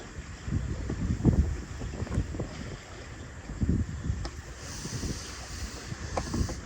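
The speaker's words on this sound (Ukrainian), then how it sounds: "Ось так, вітер дує" Steady wind rushes and buffets across the microphone in gusty bursts while fishing, with a low rumbling roar and faint water sounds beneath, no voices.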